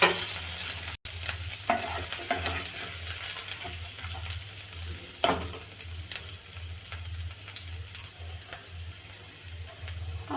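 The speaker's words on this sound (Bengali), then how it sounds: "দিয়ে তেলের মধ্যে দিয়ে দেবো রসুন কুচি" Chopped garlic and ginger fry in hot oil for red sauce pasta, a continuous close sizzle with occasional stirring scrapes and one brief dropout, with no talking throughout.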